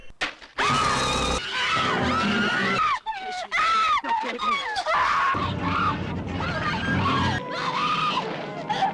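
Repeated high, wailing screams from a young woman, loud and close, rising and falling in long cries with brief gaps and some crashing noise behind.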